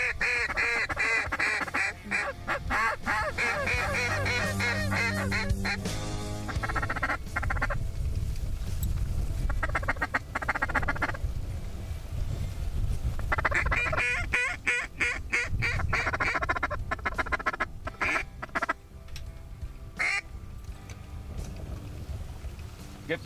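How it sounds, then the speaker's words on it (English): Ducks and geese honk and quack from a field during a waterfowl hunt, the calls loud and continuous, layered over one another, with wingbeats and a steady outdoor background throughout. "Ducks out front over the hill here. 10 or 12."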